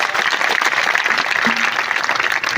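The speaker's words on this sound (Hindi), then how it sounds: "उन संस्कारों के लिए जोरदार तालियां चाहूंगा।" A crowd at a political rally in a Haryana village applauds loudly and continuously, dense clapping sustained throughout with no voices standing out.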